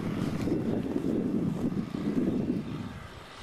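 A small Lynx wind turbine charging a 12-volt battery spins in the wind, a steady low whooshing drone mixed with wind rush that fades slightly near the end.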